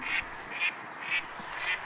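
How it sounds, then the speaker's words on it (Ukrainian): A wild duck quacks four times in an even, spaced rhythm, clear and fairly close with little else around it. "Це дика качка малята."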